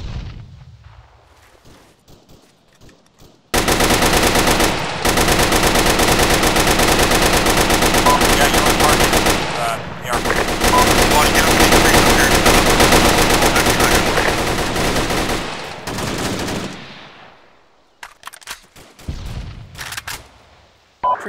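Arma 3 machine gun fire roars in sustained, heavy automatic bursts, loud and near, with a short break midway before resuming, then tapering off into scattered distant shots.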